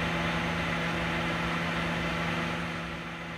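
Blender whirring through corn cake batter, a loud, steady motorized hum with a constant low tone that runs evenly throughout and eases slightly at the end, with no voices.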